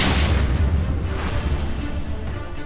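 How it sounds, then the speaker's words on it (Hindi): A Russian tank fires in a combat zone in Donetsk, giving a heavy boom at the start, followed by a rumbling distant blast and low, sustained rolling echo; loud, no talk. "दूसरे कैमरे से दिखता है कि एक रूसी टैंक फायर करता है और दूर जाकर बम फटता है"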